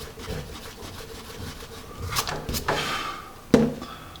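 A Magic Rub eraser rubs back and forth over pencil marks on paper, a close scratchy scrubbing that builds in strokes and ends with a sharp knock.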